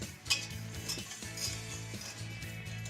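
Butter and sugar whisked in a pan in a firehouse kitchen, giving a steady mechanical scraping and rattling rhythm that repeats through the clip with a faint sizzle above.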